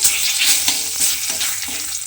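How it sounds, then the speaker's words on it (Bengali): Two bay leaves hit hot oil in a wok and sizzle steadily, a close, continuous frying hiss with faint stirring scrapes and no voices. "এবারে আমি তেলের মধ্যে দিয়ে দেব 2টো তেজপাতা"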